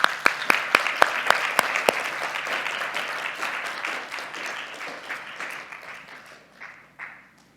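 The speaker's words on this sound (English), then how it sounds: "Big round of applause to you" An audience at a patient-safety talk claps. A few loud individual claps open it, then it swells into dense applause that gradually thins and fades away, with a last scattered clap near the end.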